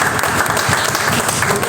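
A church congregation at a consecration ceremony for a bishop and a pastor claps for the Lord, a brief, steady wash of dense applause with no pauses.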